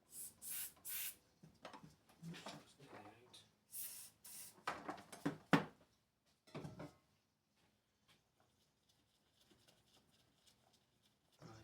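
GT85 spray lubricant sprayed on a rear brake caliper part of a Triumph Sprint ST 955i motorcycle, several short sharp hissing bursts close by, followed by quiet handling noises.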